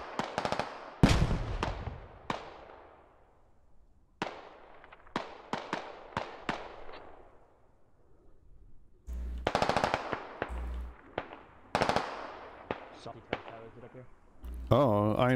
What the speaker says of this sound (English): Grenades being thrown.